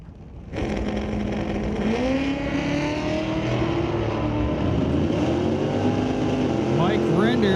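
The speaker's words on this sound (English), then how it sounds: "We got Ralph Ellers, 91 notch Fox body, pulling up to the staging beams, and Mike Render in the 85 Chevy S10." Drag race cars, a 1991 notchback Fox body and a 1985 Chevy S10, rumble loudly at the staging beams of a drag strip, engines idling and blipping with rising revs, steady and close throughout.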